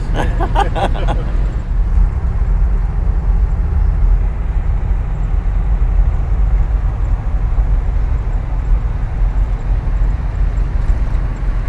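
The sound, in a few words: Jeep Grand Wagoneer driving on the road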